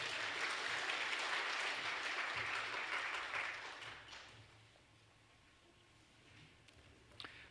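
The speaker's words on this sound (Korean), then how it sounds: "우리 박수로 우리 주성준 목사님 모시겠습니다" A church congregation applauds during a Sunday worship service to welcome the pastor; the clapping is full and steady for a few seconds, then fades away, leaving a quiet room.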